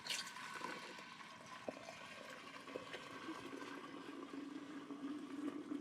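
Apple juice poured vigorously into a fermenter for hard cider, a steady splashing, gurgling pour with light clunks, moderately close and even throughout.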